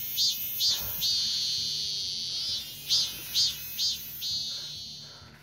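A human voice imitates a cicada's buzzing during a singing-practice lesson, a bright, nasal, sustained tone broken by a few quick rhythmic pulses near the start and again toward the end.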